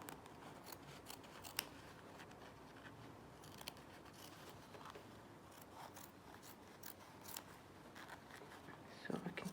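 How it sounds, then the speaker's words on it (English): Fabric scissors make a quiet, irregular run of crisp snips while trimming excess material from the back of a bound buttonhole during sewing, a faint voice murmuring underneath. "I'm just going to trim away some of this excess fabric on the back"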